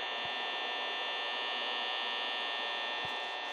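Steady electric fan hum inside the video game Five Nights at Freddy's, played on Android, a constant droning buzz with a bright tonal whine, holding level throughout with a couple of faint low thumps.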